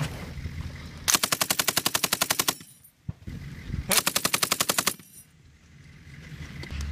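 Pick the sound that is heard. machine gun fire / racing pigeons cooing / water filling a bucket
machine gun fire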